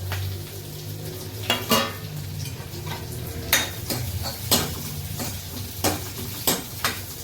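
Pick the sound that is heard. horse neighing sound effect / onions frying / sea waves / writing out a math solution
onions frying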